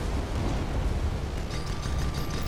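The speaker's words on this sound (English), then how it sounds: "A lightning blast this close." A lightning blast striking a cannon in a co-op video game, a loud, rumbling, explosive roar that fills the whole moment with deep booming and crackle, no speech.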